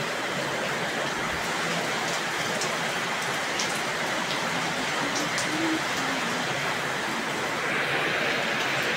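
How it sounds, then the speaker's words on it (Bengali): Steady rain falls continuously, a dense hiss of drops on surfaces with occasional louder patters, no talking. "বৃষ্টি শুরু হয়ে গেছে।"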